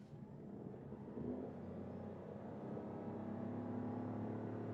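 Toyota Aygo X Hybrid in power mode accelerating from 20 to 70, its engine a steady, rising drone heard from inside the cabin, with road rumble running beneath it the whole time.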